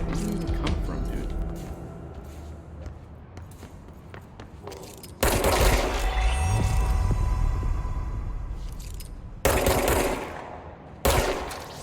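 Gunfire rattles through a shooter video game, with scattered shots and rapid automatic bursts, heavy loud volleys later on, and footsteps and mechanical clatter between them.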